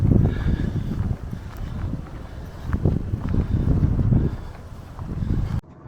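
Strong wind buffets the microphone in gusty, rumbling bursts on open chalk downland near Berwick St John during a sunny spring walk, with no voices.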